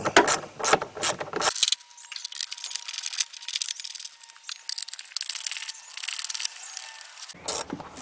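A ratchet with an 8mm socket removes blower motor bolts on a 1999 Ford F-250 Super Duty, giving rapid, close clicking strokes in repeated bursts with brief pauses between them.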